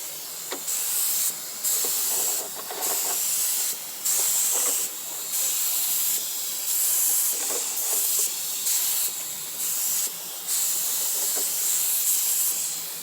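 A spray gun laying a second coat of paint on a 2007 Ford Edge in short repeated bursts of sharp hissing spray, each pass a second or so long with brief gaps between, close and fairly loud.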